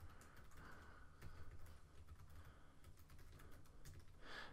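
Typing on a computer keyboard while entering a web address, a steady run of light key clicks over a low background hum, with no talking.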